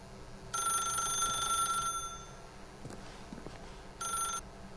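An old-style telephone bell rings inside the video game The Stanley Parable, with a long bright ring, a pause, then a second short burst, all fairly close and without speech.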